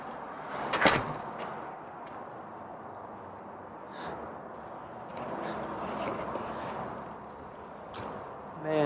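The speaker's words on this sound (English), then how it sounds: "Let's just shut that door." A door is pushed shut in a luxury house beside its pool area, giving one sharp close early on, then steady room noise with faint shuffling.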